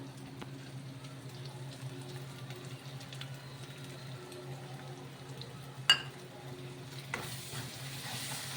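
Ginger-garlic paste with tomato paste being stirred in a pan for a chicken curry, giving a soft continuous scraping and low sizzle with a sharper clink near the end.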